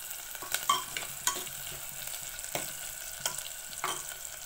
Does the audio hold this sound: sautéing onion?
yes